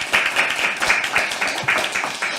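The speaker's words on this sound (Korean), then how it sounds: "큰 박수 부탁드립니다." Audience at a Korean political ceremony clapping steadily, a dense, even patter of applause lasting a couple of seconds without a break.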